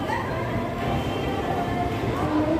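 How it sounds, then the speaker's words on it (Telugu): A Guntur to Vijayawada MEMU passenger train pulls out of the platform, its steady low rumble and rolling wheel noise heard from inside the coach, with faint chatter from passengers. "ఇదిగోండి మన ట్రైన్ అయితే ఆల్రెడీ ప్లాట్ఫామ్ నెంబర్ 1 నుండి అయితే బయలుదేరింది"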